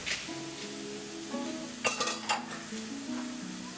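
An egg drops into a hot pan of chira pulao, made with flattened rice, and sizzles steadily while a utensil stirs with a few sharp clinks, close and loud.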